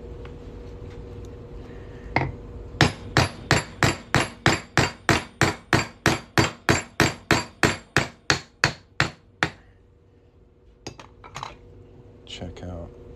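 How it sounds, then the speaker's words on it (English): Hammer blows drive a center punch through a silver coin, about twenty sharp metallic strikes in a steady, rapid rhythm, loud and close, followed by a few scattered lighter taps. "And we're just going to hammer that on through our coin here."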